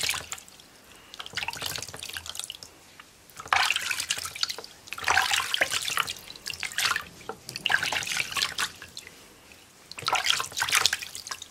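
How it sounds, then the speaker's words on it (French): Lukewarm water splashing and dripping as skin is rinsed over a sink, in uneven bursts of trickling and splashing with short pauses between, close by and fairly quiet, no talking. "Et vous rincez. Avec de l'eau tiède."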